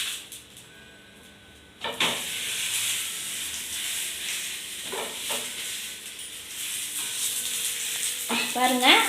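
Adai batter pancake fries in oil on a pan, with a steady close hiss and sizzle that swells suddenly after a quiet start and continues loudly, broken by a few scraping clinks.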